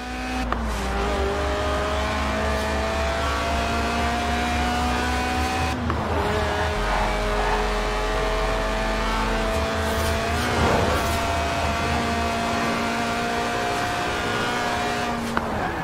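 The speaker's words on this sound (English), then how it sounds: "the Lotus Elise, a 90s classic based on the age-old roadster recipe. Two seats, engine in the middle, rear-wheel drive" A Lotus Elise Sport 190, a stripped-out, track-tuned mid-engine, rear-wheel-drive roadster in Forza Horizon 4, drones steadily up through the revs. The pitch drops sharply at gear changes around six and eleven seconds, then climbs again.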